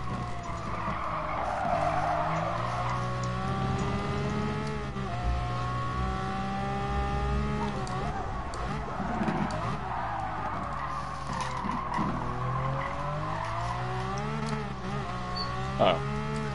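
A racing car in a video game slides around the Nurburgring with too much handbrake, tires squealing in long skids over a continuous droning, revving engine, loud and close throughout.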